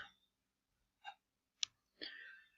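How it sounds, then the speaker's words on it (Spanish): Computer mouse clicks while working in Visual Studio 2013, a few quiet, separate close-up clicks spaced about half a second apart, with no talking. "Entonces damos clic derecho, agregar,"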